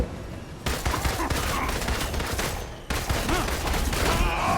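Rapid, continuous gunfire in the video game Marvel's Avengers: loud, dense volleys that break off for an instant and then resume just as heavy.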